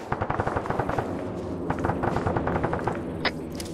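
Gunfire in the military video game ArmA 3: rapid, dense bursts of shots crackle continuously for a few seconds, loud and close, with no talking over them.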